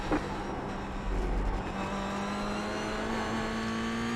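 Race car engines in the iRacing sim during a multi-class race, a continuous loud engine drone with steady harmonic whine and a slowly rising pitch, close and without talk.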